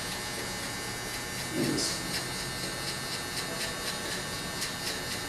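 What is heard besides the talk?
electric hair clipper cutting hair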